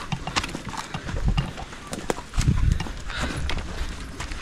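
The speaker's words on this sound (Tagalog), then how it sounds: "Kabayo." Horse hooves clip-clop along a paved cement road, a steady run of sharp knocks at close to moderate distance with a heavier burst midway, mixed with traffic-like background noise and some talk.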